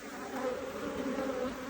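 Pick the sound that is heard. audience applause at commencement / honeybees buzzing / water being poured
honeybees buzzing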